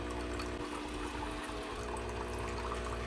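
A steady stream of cold tap water pours and splashes continuously from a Senseo coffee maker into a container, a constant close-up rush with a low mechanical hum beneath.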